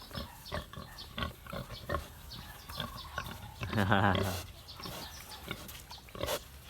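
Pig grunting and giving one louder, drawn-out squeal partway through, close by, while people talk over the animal sounds.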